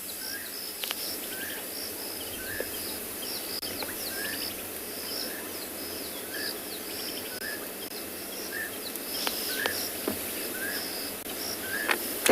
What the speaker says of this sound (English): You can hear Llewellyn's cuckoo in the background.